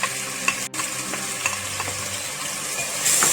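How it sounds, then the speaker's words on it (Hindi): Sliced onions dropped into a cup of hot oil, a continuous bright sizzle with occasional crackles and a brief stir, fairly loud and close with no talking. "अब इसमें ये मैं सारी प्याज जो है वो डाल दूंगी।"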